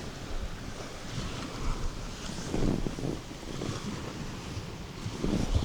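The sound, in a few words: strong wind blowing over a reservoir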